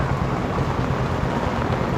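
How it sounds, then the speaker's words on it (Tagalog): Heavy rain keeps up a dense, even roar of drops with a low rumbling undertone, loud and unbroken, and no voices. "Ayan, mas lumakas yung ulan."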